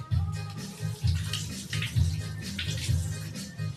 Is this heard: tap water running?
yes